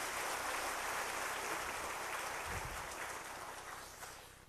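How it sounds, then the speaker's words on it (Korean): A church congregation at a Sunday service applauds warmly, a dense wash of many clapping hands that carries steadily and slowly fades toward the end. "뜨거운 박수로 축하하겠습니다."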